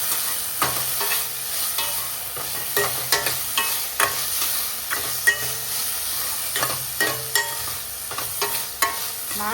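Tomatoes frying in a pan give a continuous sizzle broken by frequent sharp scrapes and taps of a spoon stirring against the metal, close and fairly loud, with no one talking.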